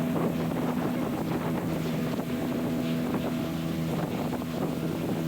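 A small boat's motor drones in a steady low hum on a choppy crossing toward Waisai in Raja Ampat, with wind buffeting the microphone and water splashing across the hull.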